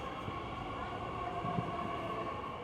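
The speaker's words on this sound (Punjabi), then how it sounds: "ਫਾਈਨਲੀ ਆ ਗਈ ਆ ਟ੍ਰੇਨ" A train pulls in with a low continuous rumble and steady hum, a few faint clanks and squeaks near the end; no one speaks.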